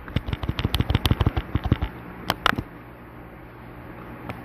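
Handgun shots fired at the Twinfeeler in the original PlayStation Silent Hill: a rapid string of about a dozen sharp, close cracks, then a brief pause before two or three final shots.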